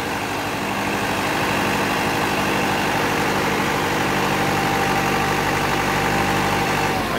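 A hydraulic pecan tree shaker running steadily as its clamp closes onto an orchard tree, a continuous loud engine and hydraulic drone with a low hum, close by and without talk.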